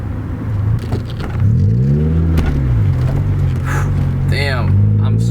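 A 2000 Honda Civic EX pulls away and accelerates, its engine note climbing in a rising whine with road rumble filling the cabin. The drive is heard from inside the car, with no talking over it.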